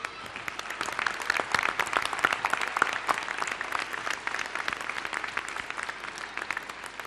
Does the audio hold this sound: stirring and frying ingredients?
no